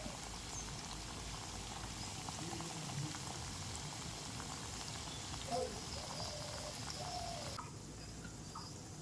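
Homemade ghee with powdered turmeric simmering in a wok, a faint, continuous bubbling hiss with small pops, quiet and steady, with a dove cooing softly in the background.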